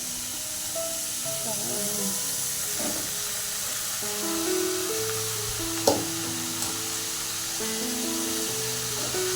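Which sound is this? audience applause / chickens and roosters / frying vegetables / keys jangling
frying vegetables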